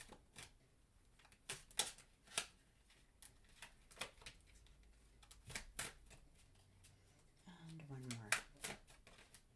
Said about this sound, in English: Okay. 3 shuffles.